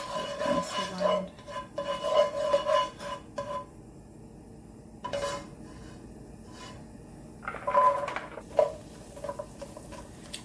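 Butternut squash pieces being stirred and scraped around a pan with a utensil, uneven bursts of clattering and scraping with quiet gaps between, close by.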